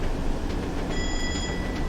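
A warning bell rings in the cab of a class 101 diesel train in Train Sim World 2, a short bright ring over the steady rumble of the moving railcar, with no voices.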